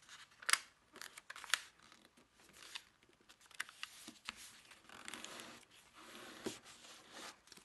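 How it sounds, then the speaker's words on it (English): Sheets of origami paper fold and crease for a heart, giving crisp crinkles and sharp flicks scattered at an uneven pace, close and fairly quiet. "fold this flap down on this crease and fold this edge up to here"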